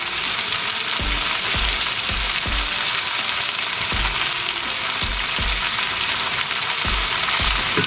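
Pats of butter melting into Southern-style smothered fried potatoes in a pan, giving a loud, steady sizzle and crackle close up, with low periodic thumps of the pan or spatula underneath and no talking.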